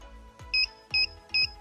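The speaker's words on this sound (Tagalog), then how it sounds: "Nag-a-alarm siya mga ka-DIY. Kasi above 15 volts tayo." A 1500W pure sine wave inverter's over-voltage alarm beeps three times at an even pace as its supply rises above 15 volts, each short high-pitched tone clear and close, with a faint hum underneath.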